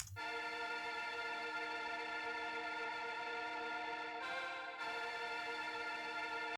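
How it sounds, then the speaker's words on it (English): A thin, crunchy vintage-style synth pad holding one steady sustained chord, quiet and even, with a brief dip in its bright upper layer near the end. "So we have this pad vintage"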